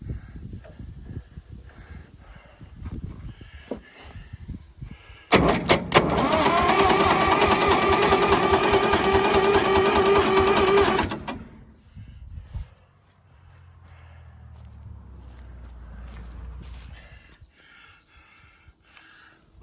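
Massey Ferguson 200 crawler loader engine cranking over on its starter, a loud steady whirring crank lasting several seconds and then stopping, followed by a low rumble and faint handling noises.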